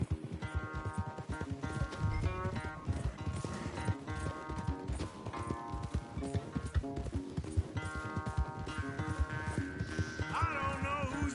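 A horse gallops at speed during a race in Red Dead Redemption 2, with rapid, rhythmic hoofbeats pounding continuously over game music.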